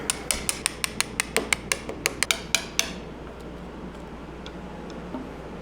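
Chiseling bolts out of a 1964.5 Mustang's Ford 302 engine during teardown: about fifteen sharp metallic hammer-on-chisel strikes in a quick, steady rhythm over three seconds, close and clear, then only low workshop hum.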